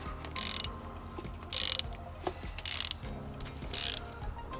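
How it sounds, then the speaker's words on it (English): Ratchet on a long extension with a spark plug socket working a plug loose on a Nissan 350Z, giving four loud bursts of rapid clicking separated by short pauses and faint knocks, with no talking. "We are going to be using a ratchet and a long extension with the spark plug socket remover on there."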